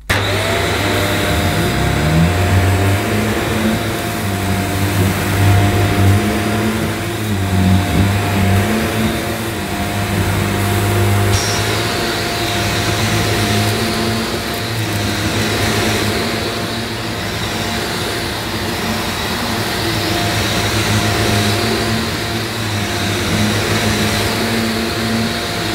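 A Shark Lift Away TruePet corded upright vacuum runs on maximum suction over a rug, making a loud, steady, close whine that continues throughout with no one talking.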